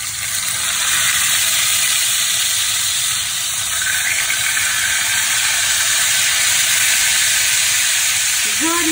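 Pieces of pork steak fry in a preheated hot pan, giving a loud, steady sizzle with a broad hiss that holds without a break from start to finish. No one speaks.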